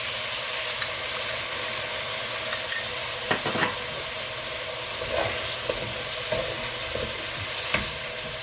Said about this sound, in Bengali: মশলাটা ভালো করে কষবো যতক্ষণ না তেল ছেড়ে দেয়